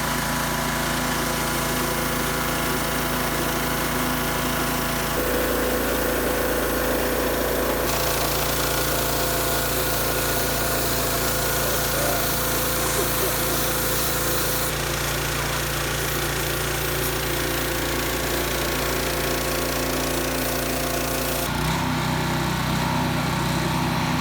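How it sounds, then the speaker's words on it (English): A pressure washer blasts paint stripper off the steel firebox of a 1000-gallon offset smoker, a loud, steady engine-driven roar that runs the whole time with small shifts in pitch and texture. "I'm going to hit it with the pressure washer. See if all that stuff will fall off."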